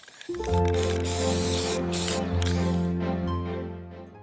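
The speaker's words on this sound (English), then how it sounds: "I thought that I could just get by spraying them with 2 different shades of green." Continuous aerosol spray paint hisses steadily for about four seconds onto model trees, close and loud, with a faint mechanical tone underneath.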